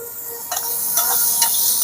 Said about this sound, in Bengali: একটু ভাজা হচ্ছে বাটার।